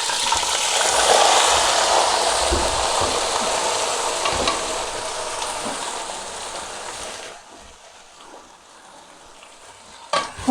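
Finely chopped potatoes hit hot oil for a spicy aloo bhujia, setting off a loud, dense crackling sizzle that holds for several seconds, then eases to a quieter bubbling with a brief clatter at the end.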